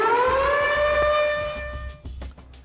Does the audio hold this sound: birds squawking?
no